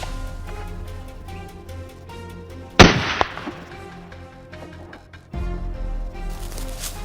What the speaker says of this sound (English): I raised my rifle and squeezed the trigger